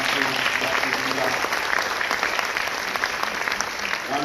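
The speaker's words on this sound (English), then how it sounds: "please join me in giving a warm round of applause to Dr. Jamila." Sustained audience applause after an academic talk on extinction and climate change, dense even clapping from a crowd that fills the whole stretch at a steady level.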